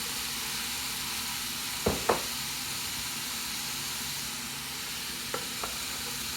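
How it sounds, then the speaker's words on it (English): Green onions sizzling with Korean-style beef in a hot pan, a steady close frying hiss punctuated by a couple of utensil knocks and a few lighter taps. "It's at this time that I'm also going to add my green onions."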